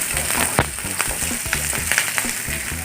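Chopped tomatoes go into a hot pan for okra sambar, giving a loud, close sizzle broken by sharp crackles and the scrape of stirring.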